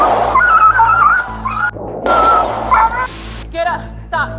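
A dog whimpers and yips in high, wavering cries during a tense police encounter, close and loud, broken by short gaps and mixed with raised voices.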